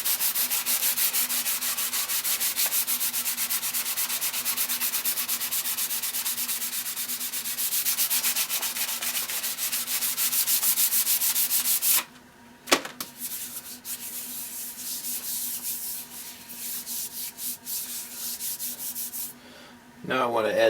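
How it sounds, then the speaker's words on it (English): Timberlux finish is rubbed as a putty into the pores of rifle stock wood, giving a steady, close scratchy rubbing that runs for long stretches with two brief pauses before resuming. "Purpose here is to simply get enough Timberlux on the surface of the wood to make a good putty to rub into the pores."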